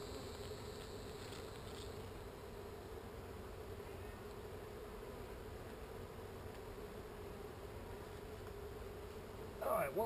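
Honey bees buzzing around an opened hive in a yard raided by a black bear, a low steady drone filling the background, faint and close, with a short rustle near the end.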